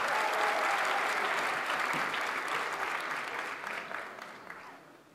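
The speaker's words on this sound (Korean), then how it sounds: "박수 부탁드립니다." Party members at a Gyeonggi provincial party convention give a loud, sustained round of crowd applause that gradually tapers off toward the end.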